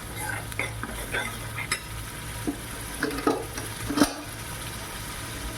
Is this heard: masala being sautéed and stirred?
yes